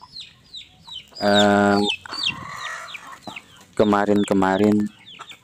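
Chickens clucking and squawking close by in two loud bursts, with softer chirps and a few spoken words in between.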